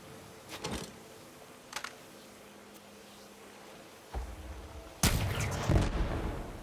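Smart rockets fired from a gun in Borderlands 3, a few sharp launching bursts early on, followed by a louder sustained blast and rumble of explosions near the end.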